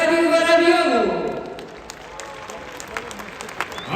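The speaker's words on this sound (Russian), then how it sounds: "Аплодисменты Life Arena!" An arena crowd at a wrestling tournament applauds, a broad sustained clapping that starts under a loud announcer's voice and carries on alone after the voice fades.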